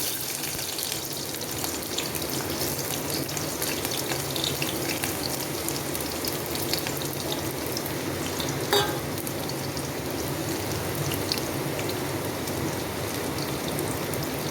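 Onions sizzle in hot oil with mustard and fenugreek seeds in a pan, the start of a coconut fish curry, a dense, steady, close frying hiss throughout.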